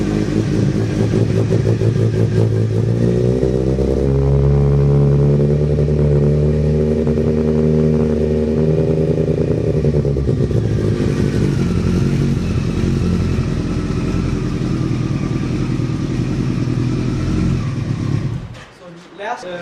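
A 2012 R motorcycle with an unrestricted Two Brothers exhaust, loud and close, holds a deep rumbling idle, rises in a revving swell, then settles back before cutting near the end.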